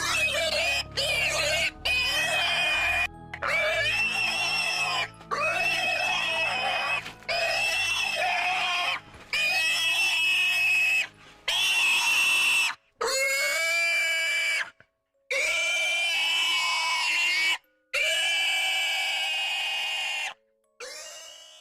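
A pig in an audio drama squeals and grunts loudly and close, in repeated harsh bursts separated by brief silences, with a low rumbling bed beneath the early cries.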